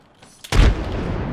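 A frag grenade goes off in Apex Legends: one sharp, loud blast with a deep low thump, trailing into a sustained rumble and ringing afterward.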